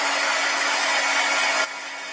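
Close, loud steady whoosh of a heat embossing tool blowing hot air over tiny card pieces, running continuously and dropping slightly in level near the end, with no talking.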